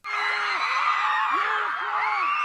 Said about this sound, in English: they've just started screaming